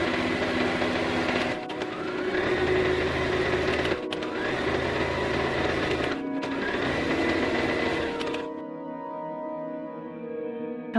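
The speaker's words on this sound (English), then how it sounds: "hopefully I'll have time to swap out the needle and start sewing some of those other mystery scrunchies" A sewing machine runs steadily while stitching fabric scrunchies, its close, loud motor hum broken by two brief pauses before it stops near the end.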